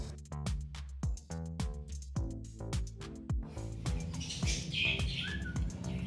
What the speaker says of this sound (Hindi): अभी जो आप देख रहे हैं वो ब्राह्मणी पक्षी का घोंसला है, जिसमें 4 अंडे थे लेकिन वहाँ से 2 बच्चे निकले थे।